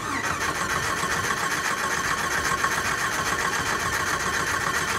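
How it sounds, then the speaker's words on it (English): Jeep XJ Cherokee engine running with no muffler or exhaust fitted, a steady, loud, raw mechanical drone that continues unchanged throughout without pauses. "this one doesn't have any muffler or exhaust on it"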